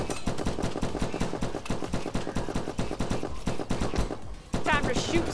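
Video game gunfire aimed at aliens: a fast, steady stream of rapid shots running nearly throughout, loud and continuous, with a brief gap near the end followed by a whooshing effect.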